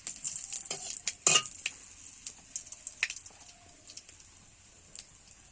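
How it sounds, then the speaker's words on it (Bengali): Whole tempering spices and a bay leaf hit hot oil for a Bengali fish curry, giving soft crackling sizzles with scattered sharp pops and a few utensil clinks, fairly quiet and close. "এদিকে ফোড়ন আর তেজপাতা দিয়ে দিলাম"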